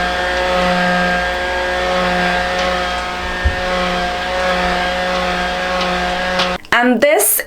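A small electric fan runs close by with a steady, whining motor hum for several seconds before a person begins talking over it.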